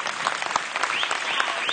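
Steady applause from a modest audience at a Holstein dairy cattle fall show, sustained clapping filling the whole stretch with a few louder claps standing out.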